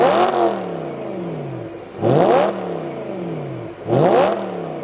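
BMW E9X M3 V8 engine revved three times in sharp, loud blips, each climbing quickly and falling back to a steady idle between them, with no talking.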